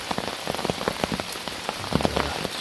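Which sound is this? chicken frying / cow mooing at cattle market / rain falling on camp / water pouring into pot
rain falling on camp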